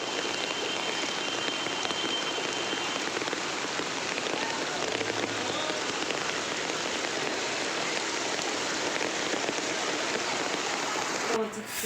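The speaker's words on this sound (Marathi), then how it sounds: "सगळीकडे धमाकेदार पाऊस झाला" Heavy monsoon rain pours down in a dense, even hiss on hard surfaces, continuous and loud for the whole stretch with no pauses.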